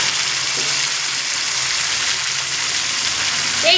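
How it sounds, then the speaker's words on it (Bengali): Steady loud sizzling fills the pan as a spice paste hits potatoes and onions frying in oil, a continuous hiss with no voices over it. "পেঁয়াজের সঙ্গে আমি আলুগুলো ভেজে নিয়েছি"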